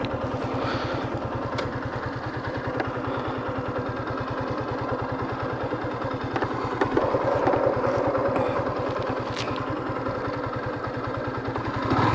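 A Yamaha FZS V2 150cc motorcycle engine idles and putters steadily up close in the hills, its rapid regular thumping continuing throughout with slight revving midway.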